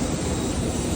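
A propeller airliner's engine drones at Guangzhou airport, a steady, loud, close broadband roar with a low rumble, unbroken for the whole moment.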